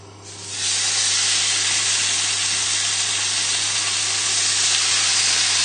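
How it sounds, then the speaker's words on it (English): A loud, steady sizzle of steaks frying in a hot pan starts abruptly and hisses on continuously, with a low hum underneath. "in with the steaks, and you should hear a really loud sizzle"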